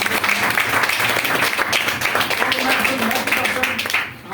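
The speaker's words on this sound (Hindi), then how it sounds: "एक बार क्लैपिंग हो जाए अपने लिए।" An audience at a business training presentation claps for itself, a steady dense patter of many hands that holds throughout and fades near the end.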